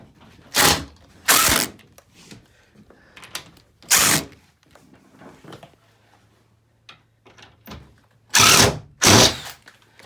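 A drill with a seating bit drives drywall screws while drywall goes up for a double shower, heard as several short loud whirring bursts with gaps between them, close and alone.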